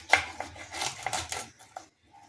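A knife cuts the gills off a fish during cleaning for a crispy fried fish dish: several short scraping, clicking cuts in quick succession, close and fairly faint, then a pause and one more small cut.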